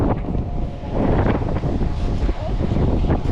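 Wind gusts outdoors in a loud, rumbling buffet against the microphone, rising and falling over a few seconds, with faint voices mixed into the noise.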